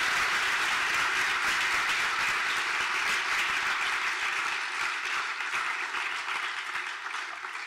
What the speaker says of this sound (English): Let's give a round of applause to Kathy DeWitt.